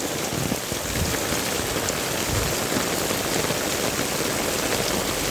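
Heavy rain pours down on a flooded street with knee-deep water, a dense, steady hiss close and loud without a break.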